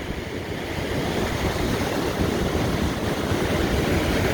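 Surf breaking along the Lake Superior shore near a sand dune, mixed with strong wind buffeting; a steady, loud, broadband roar that swells slightly and never lets up, with no voices.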